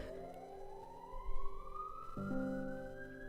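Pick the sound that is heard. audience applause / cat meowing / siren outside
siren outside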